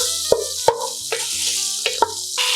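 Spicy tortellini soup ingredients sautéing in a stainless steel pan give a steady hiss of sizzling, broken by a few sharp utensil clicks against the metal, all under background music.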